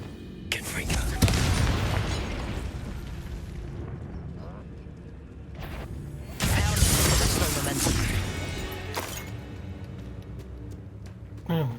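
A Confringo fire spell in the Hogwarts Legacy video game lands with a heavy booming blast and rumbling debris that swells loudly, fades, then erupts again in a second big burst, with someone speaking around it.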